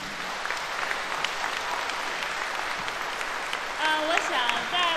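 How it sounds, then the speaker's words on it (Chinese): An audience at an erhu concert applauds steadily for the whole stretch, a dense hall-wide clapping, while a voice briefly speaks over it near the end. "所以我们想再次以掌声我们送给这些作曲家和演奏家们。"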